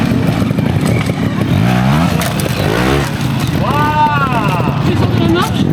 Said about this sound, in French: Tu écrases sur ta moto et tu prends de la vitesse